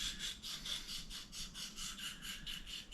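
A kitchen knife drawn back and forth across an oil stone makes quick, even rasping strokes, about three or four per second, close and steady, with no voices.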